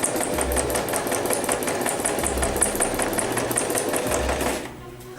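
A sewing machine stitching steadily up close, its needle tapping in a fast, even rhythm that runs continuously before stopping just before the end.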